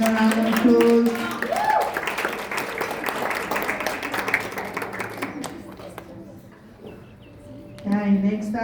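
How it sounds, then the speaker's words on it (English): A crowd claps for grade 7 students at a school bell ringing ceremony, a dense burst of applause mixed with voices that thins out before talking resumes at the end. "Let's give them a round of applause."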